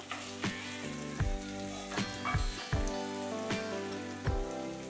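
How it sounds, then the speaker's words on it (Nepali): Finely chopped tomato fries for a Nepali okra curry with a continuous sizzle and crackle, broken by soft repeated knocks. A steady tonal background, like music, runs underneath. No one talks. "अब हामी एड गर्दै छौं मसिनो गरी काटेको आधी गोलभेडा, यसलाई पनि एकछिन फ्राई गर्नुपर्छ।"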